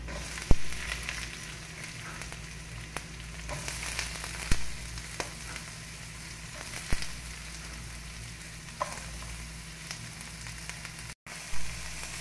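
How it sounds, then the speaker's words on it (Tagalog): Chopped onions fry in a hot pan with garlic for pancit canton. A constant close sizzle is broken by occasional scraping knocks as they are stirred. "Haluin natin ang sibuyas."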